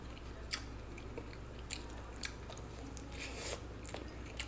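Someone chews a pan-fried pollock pancake (donggeurang-style fish jeon) close up, with soft wet bites and a few sharper crunchy clicks spread over several seconds against a low steady background hum.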